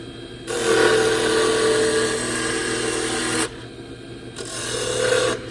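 A spindle gouge cuts Spectraply laminated wood spinning on a lathe, giving a loud rasping scrape in two bursts separated by a short pause, with a steady motor hum underneath.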